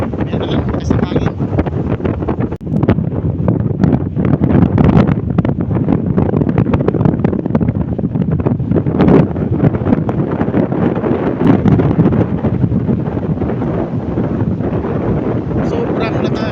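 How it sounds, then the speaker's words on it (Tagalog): Strong wind buffets the microphone on an island shore beside rough sea, a loud continuous roar with gusts and rushing water throughout, while a voice is faintly present beneath. "Sobrang lakas ng hangin, sabi ang barko nakatambay."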